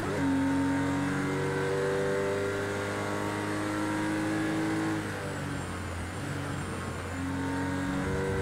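A race car engine in Project CARS 2 revs hard during a career race at Mount Fuji, a loud continuous whine with rising and falling pitch through gear changes, heard alone without talk.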